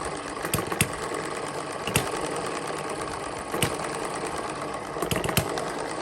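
A model hit-and-miss engine runs steadily on a small homemade dynamometer, giving a continuous close mechanical whir broken by a few sharp periodic firing clicks, with no talking.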